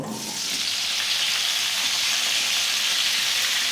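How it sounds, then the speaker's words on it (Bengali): Potato and pumpkin pieces fry in hot oil in a kadai, giving a steady, dense sizzle that swells in the first half second and then holds loud and even, with no voices. "এবারে এর ভেতরে আমি আলুটা আর কুমড়োটা দিয়ে ভেজে নেব"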